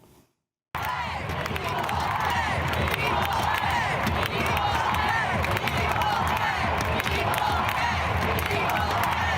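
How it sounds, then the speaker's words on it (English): A large stadium crowd roars and chants after the Women's World Cup final win over the Netherlands, a dense, continuous mass of voices that starts abruptly after a brief moment of quiet. "members of the crowd began chanting, "Equal pay, equal pay.""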